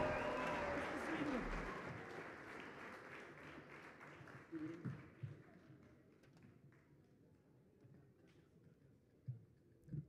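Audience applause after a Colombian folk dance performance, a dense burst of clapping that fades over several seconds into scattered claps and murmurs.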